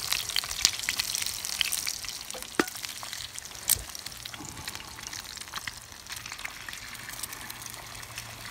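Food sizzles and crackles in a pan during an outdoor camp and bushcraft brunch, a steady near fry with scattered pops and faint clinks over a continuous hiss.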